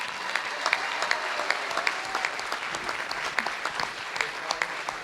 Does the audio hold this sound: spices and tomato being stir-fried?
no